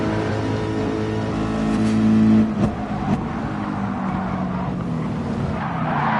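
A race car in a racing game spins out and is struck, with a steady engine drone, a squealing tire skid and a sharp impact thud, followed by continuing engine noise.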